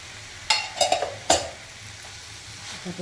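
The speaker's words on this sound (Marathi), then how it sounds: "भाजी एकदा परतून घेऊ" Grated radish and radish leaves, with fresh coconut, are stir-fried in a pan: three or four close spatula scrapes and clinks stand out over a faint, quiet sizzle.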